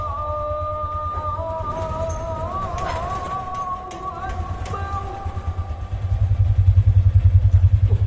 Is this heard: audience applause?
no